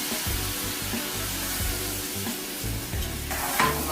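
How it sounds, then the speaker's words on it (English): Pinot Grigio white wine goes into a hot pan of chicken and sizzles loudly and steadily, a close, hissing fry with small crackles and a brief sharper hiss near the end. "So we're just going to pour that little wine in there."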